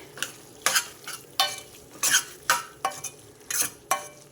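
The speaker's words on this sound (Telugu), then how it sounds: "లాస్ట్లో కొత్తిమీర వేసేసి బాగా కలిపేసి" Flat bean curry being stirred in a pan after coriander leaves go in, a series of close, rhythmic scraping strokes of a spoon against the metal over a light sizzle.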